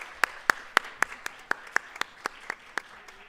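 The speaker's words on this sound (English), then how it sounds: "Okay, we can clap now." At a student leadership awards ceremony, a single pair of hands claps about a dozen times in a steady, evenly spaced rhythm, sharp and fairly close in an otherwise quiet room.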